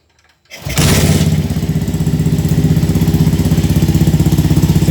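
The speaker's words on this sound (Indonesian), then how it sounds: "Ini coba kita nyalakan dulu konco ya. Ini kuncinya, selahnya ya dulu." A classic motorcycle engine kicks into life after a brief quiet moment, then settles into a loud, steady, rhythmic idle thumping close by.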